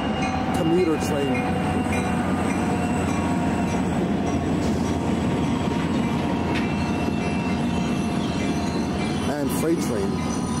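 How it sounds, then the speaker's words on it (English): A commuter train rolls past beside the C&O Canal near Brunswick, Maryland, with a steady, continuous rumble and occasional faint wheel squeals. "Commuter train."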